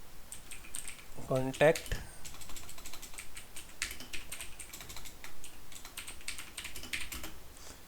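Typing on a computer keyboard while writing a table description in Microsoft Word, a steady run of light clicks running under a man's spoken explanation.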